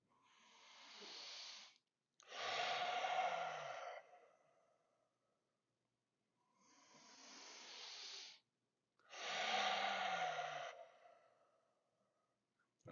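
Four slow, deep breaths during a core workout, each a long airy inhale through the nose followed by a forceful hissing exhale through the mouth, close and alone with quiet gaps between them.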